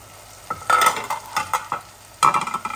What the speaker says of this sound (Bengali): আমার চিকেনগুলো আমি এইভাবে কষিয়ে কষিয়ে ভুনা করে ফেলবো।